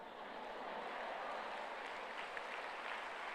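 An audience at a motivational talk by Gyanvatsal Swami claps together, producing a steady, even wash of applause that holds without pause, with no voices.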